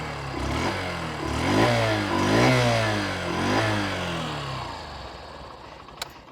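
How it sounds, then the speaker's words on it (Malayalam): A Honda Shine 100cc motorcycle engine runs steadily close by, its exhaust note rising and falling through several revs over a continuous idle-like drone, with no talking. "നമുക്ക് വണ്ടി ജസ്റ്റ് ഒന്ന് സ്റ്റാർട്ട് ചെയ്യാം. അപ്പോൾ എക്സോസ്റ്റ് സൗണ്ട്"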